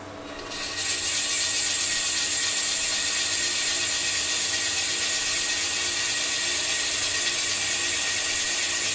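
Haas TL-1 CNC lathe parting off titanium stock at up to 2,000 RPM, giving a steady, loud mechanical whir with a bright high-pitched cutting hiss that starts abruptly and holds evenly throughout, no talking.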